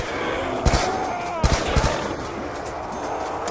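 Gunfire in the Black Ops 2 Zombies video game: a few sharp, loud shots in a short burst, then a steady wash of game ambience.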